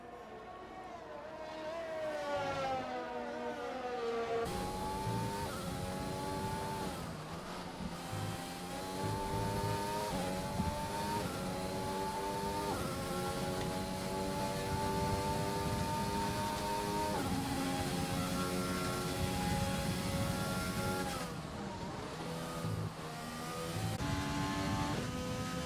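A Formula 1 race car in a video game Italian Grand Prix rounds a turn, its engine note sweeping up and down through gears in a steady, loud drone with rising and falling harmonic whines, no talking.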